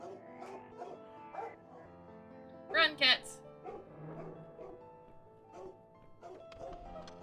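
A dog barks twice in quick, loud bursts in The Cat Lady video game, amid game sounds and a voice speaking around it.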